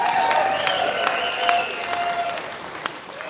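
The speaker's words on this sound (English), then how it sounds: "I'm not used to the cheering, okay?" A grassroots crowd at an Alberta Prosperity Project meeting in Sundre claps and cheers continuously, with sharp whoops and whistles rising above dense steady applause.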